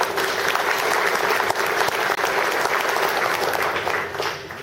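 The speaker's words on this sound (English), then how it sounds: "Let's give him a round of applause." Full, steady applause from diners at a reunion banquet, strong and even throughout before easing slightly toward the end.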